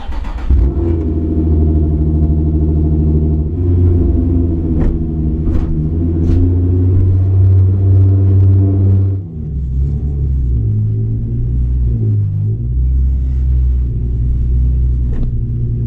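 Nissan 350Z drift car engine rumbling steadily at close range, with a deep idle and a few revs rising and falling throughout, no talk.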